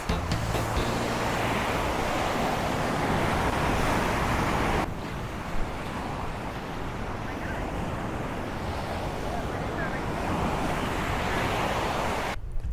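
Surf rolling onto Kahekili Beach in Hawaii, a steady continuous wash of breaking waves with some wind noise, broad and fairly loud throughout with a brief dip midway.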